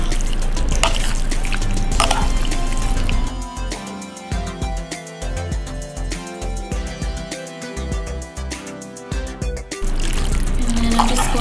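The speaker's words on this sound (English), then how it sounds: "So I rinsed the cold noodles with some really cold water." Cold running water from a tap pours over cooked cold noodles being rinsed, a steady splash at the start and end with clinks and handling noises of the noodles in between.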